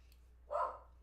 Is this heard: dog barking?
yes